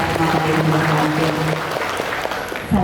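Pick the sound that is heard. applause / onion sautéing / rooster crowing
applause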